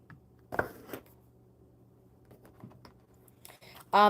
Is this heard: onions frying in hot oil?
no